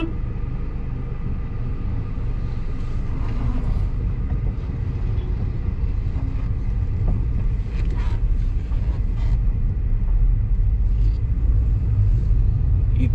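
Traffic on the four-lane Kolhapur–Ratnagiri highway makes a continuous low rumble of engines and tyres, with some wind buffeting the microphone and no speech.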